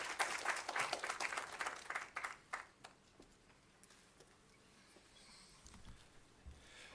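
A business meeting audience in Namibia's Hardap region claps for a couple of seconds, then the applause fades to a few scattered claps and quiet room noise.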